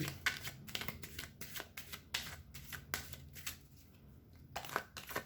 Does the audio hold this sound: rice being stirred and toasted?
no